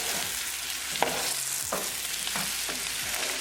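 Pan-fried taro root tossed with tadka, red crushed pepper, anardana and kasuri methi, a constant oily sizzle punctuated by several distinct spoon scrapes and clacks against the pan as it is mixed.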